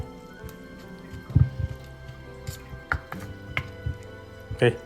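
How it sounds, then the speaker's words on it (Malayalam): A spoon mixes thick sour curd with ginger for a Kerala inji thairu, giving wet squelches and dull taps against the bowl in irregular bursts, close by and without speech. "ഒരു സ്പൂൺ ഉപയോഗിച്ച് അതങ്ങോട്ട് നന്നായിട്ട് അങ്ങോട്ട് മിക്സ് ചെയ്ത് കൊടുക്കാം"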